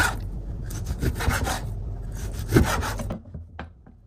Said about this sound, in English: Slice the beef against the grain.